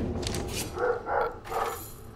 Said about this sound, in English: The dog's able to be heard.